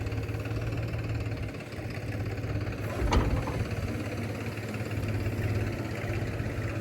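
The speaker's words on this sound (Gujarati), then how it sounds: "મયુર કાકાનું મોટું ટ્રેક્ટર લઈ લ્યો" A large tractor engine idles with a steady low rumble throughout, joined by a short sharp knock midway.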